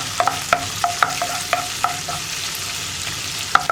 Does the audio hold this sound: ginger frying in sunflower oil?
yes